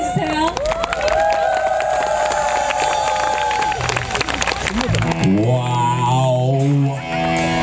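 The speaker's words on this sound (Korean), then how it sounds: "큰 박수 보내주세요." A concert crowd applauds and cheers loudly, a dense wash of clapping and shouts that holds for several seconds before fading as a voice begins speaking over the tail of it.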